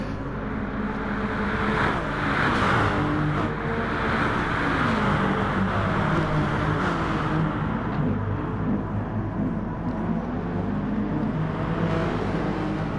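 Race cars in a racing video game round at Lago Maggiore, including a Nissan on hard tyres: a dense, continuous engine drone with overlapping whining tones that rise and fall, loud and sustained throughout, with no talking.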